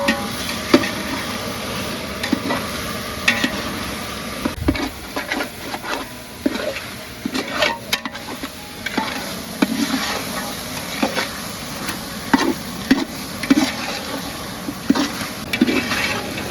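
Country chicken for village-style naatu kozhi biryani sautéing in a hot pan, a steady sizzle broken by scattered clinks and scrapes of stirring, with no talking.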